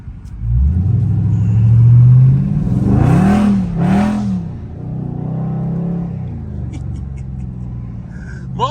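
A Dodge Challenger Scat Pack revs hard on a wet road, its engine rising and falling in two loud surges as the tires spin, then settling into a steady close rumble.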